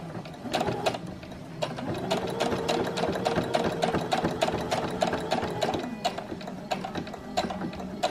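A sewing machine runs steadily while top stitching a bra strap, its fast needle clatter and whirring mechanism continuing for several seconds with brief pauses and restarts, close and fairly loud with no talking.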